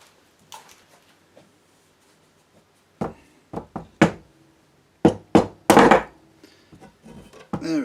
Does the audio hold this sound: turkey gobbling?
no